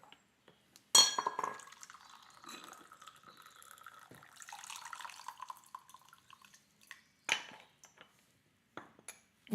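Liquid is poured with a steady splashing trickle in a quiet room, with sharp glass clinks before and after, close and fairly soft.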